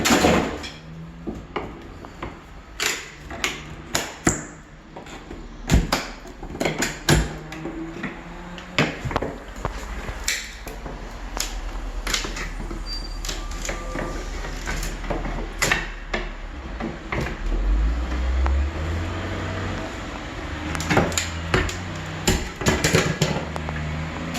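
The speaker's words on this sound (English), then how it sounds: "Pull the trim off." Trim is pried and pulled off a window frame during a brick-wall renovation, a series of sharp knocks, cracks and wooden clunks at uneven intervals, close up over a low background rumble, with no talking.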